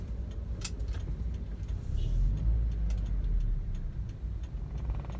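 A car rolls along at low speed inside a parking area, with a steady low engine and road rumble, faint ticking and a brief passing swell, no voices.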